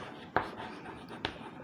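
Close, faint tapping and scratching of writing on a board in a maths lesson, with a few sharp marker or chalk strokes standing out over low room noise.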